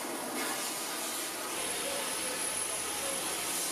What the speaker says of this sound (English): Franky Zapata flying on the innovation Flyboard Air